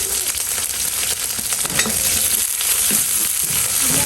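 Green chilies, cumin seeds and chopped garlic fry in hot oil, giving a steady, close crackling sizzle with a few louder pops and stirring scrapes throughout, no voices.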